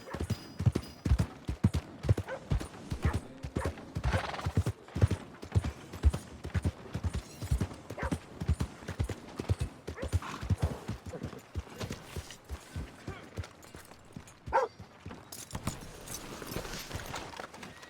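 Steady clip-clop of horse hooves from Red Dead Redemption 2, a rhythmic run of close, fairly loud hoofbeats with brief creaks of tack, continuing for the whole stretch with no clear whinny standing out.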